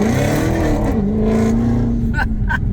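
A Dodge Charger Redeye's exhaust roars past Jersey barriers, a loud, close engine drone that rises and holds in pitch before fading, with a couple of brief sharp bursts near the end and voices talking underneath.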